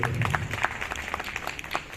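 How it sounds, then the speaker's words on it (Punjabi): Audience clapping to welcome a guest at an adolescence education and AIDS awareness programme, a soft, steady patter of applause, fairly distant and faint. "ਜ਼ੋਰਦਾਰ ਤਾਲੀਆਂ ਨਾਲ ਸਰ ਦਾ ਸਵਾਗਤ ਕੀਤਾ ਜਾਵੇ"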